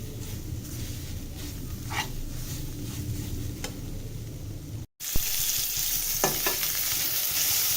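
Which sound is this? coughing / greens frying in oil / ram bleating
greens frying in oil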